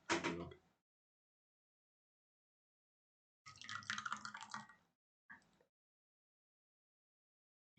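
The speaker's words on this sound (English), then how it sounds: "So, I'll pour some more tea." Tea is poured in two separate splashing streams, a short one and then a longer one, followed by a brief trickle, with silence between.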